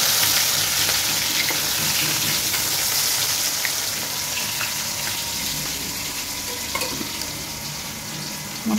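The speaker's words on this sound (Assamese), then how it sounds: "মছলি ফ্ৰাই" Snakehead fish fry in hot oil in a home kitchen, giving a loud, close, continuous sizzle that holds steady throughout with no talking.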